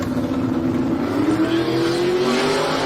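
A drag racing Ford Fairmont spins its tires with a loud, sustained engine roar whose pitch climbs steadily over a few seconds, close and continuous, with no talk.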